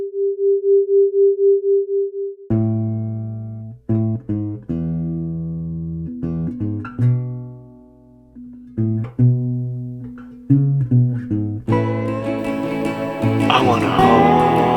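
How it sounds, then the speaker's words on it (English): A pure, steady binaural sine tone, 394 Hz left and 398 Hz right, pulsing in a slow, even 4 Hz wobble for a couple of seconds, then music with instruments and singing takes over. "generate a sine wave tone of 394 Hz for the left ear and 398 for the right"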